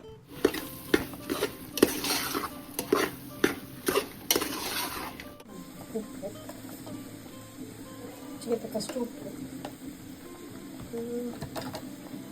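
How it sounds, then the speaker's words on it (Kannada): Brinjal and masala fry in a pan with a metal spoon scraping and clanking rhythmically against it, loud sharp strikes at first, then a softer sizzle with lighter stirring. "ಬದನೆಕಾಯಿನ ಕೂಡ ಹಾಕ್ಕೊಂಡು ಫ್ರೈ ಮಾಡ್ಕೋತೀನಿ ಸ್ವಲ್ಪ ಹೊತ್ತು"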